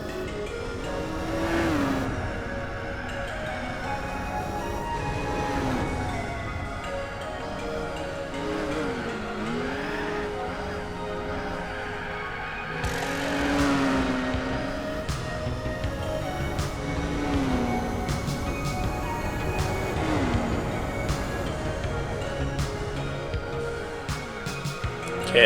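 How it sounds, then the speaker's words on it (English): A Nissan Skyline racing in Gran Turismo 4, engine droning and shifting through revs over a continuous run, with intermittent tire squeals on corners rising above the steady racing noise; no talk. "You can hear a bit of tire screech, but you can also hear that when you're on the limit."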